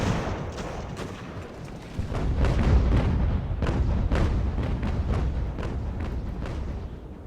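Round shot cannon fire in a naval battle near a fort in Ultimate Admiral: Age of Sail, a rolling series of booms and distant reports layered over a thick rumbling battle din.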